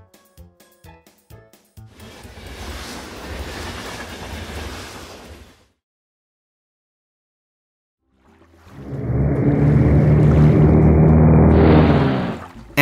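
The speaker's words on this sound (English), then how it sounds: "Monorail." A monorail train runs past in two bursts: first a broad rushing rumble that cuts off into silence, then a louder humming, whining pass that swells, holds and rises in pitch before stopping.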